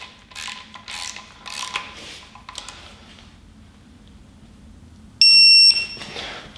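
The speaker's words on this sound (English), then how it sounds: "you're going to need your inch-pounds torque wrench, and we're going to do the rear ones to 106 inch-pounds" An inch-pound torque wrench tightens bolts on a Chevy 6.2L LT1 V8 engine, giving quick close ratcheting clicks in bursts, then a short loud electronic beep signaling the set torque has been reached.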